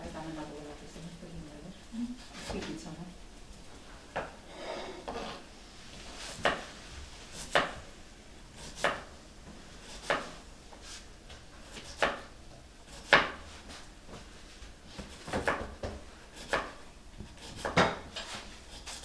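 Knife chopping onion and other food on a cutting board, producing a steady run of sharp, fairly regular close taps, with voices speaking in between.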